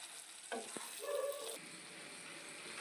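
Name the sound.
spicy chicken frying with masala in a pan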